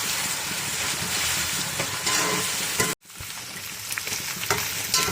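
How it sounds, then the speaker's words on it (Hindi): Garlic-ginger paste sizzles and spits steadily in hot oil, a dense close crackle with a brief gap near the middle before frying resumes, no voices. "लहसुन अदरक को हमने फ्राई कर लिए"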